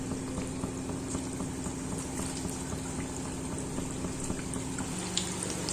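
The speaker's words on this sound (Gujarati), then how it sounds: "તો આ રીતના હું મીડિયમ સાઈઝના ભજીયા તળું છું." Medium-sized onion bhajiya fritters deep-frying in hot oil make a steady bubbling, popping hiss with a faint hum underneath, continuous and fairly quiet, no talking.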